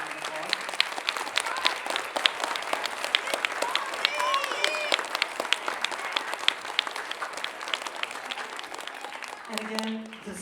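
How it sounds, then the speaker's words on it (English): A school winter concert audience applauds its teachers with steady, dense clapping across the hall, fairly close and sustained, with voices murmuring underneath; near the end the clapping fades as a sustained tone enters. "So let's give our teachers a round of applause."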